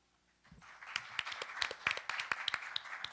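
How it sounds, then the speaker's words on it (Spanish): An audience claps in welcome. The applause starts about half a second in with scattered, sharp claps that build into steady, moderately loud clapping without a voice over it. "les solicito un caluroso aplauso de"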